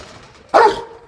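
A Rottweiler lets out a single loud, close bark after a quiet moment, and the bark tails off quickly.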